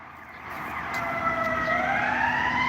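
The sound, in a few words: police car sirens in the city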